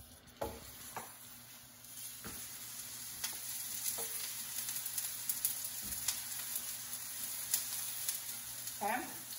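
Eggplant slices frying in oil and sizzling steadily, with occasional sharp clicks and scrapes of stirring and turning in the pan.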